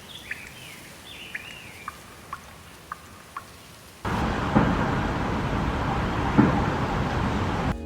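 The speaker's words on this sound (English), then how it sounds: "The sound of rain stops right as the noise of traffic begins." Dense traffic on a busy urban street breaks in abruptly halfway through as a steady, close broadband roar, replacing a quieter opening stretch that holds only a few light, evenly spaced bird chirps.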